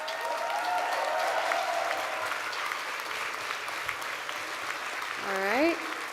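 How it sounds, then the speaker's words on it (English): Applause at a graduation commencement ceremony for the staff, a steady moderate clapping wash, with a voice speaking over it early on and again briefly near the end. "if we could give this incredible group of people a huge round of applause"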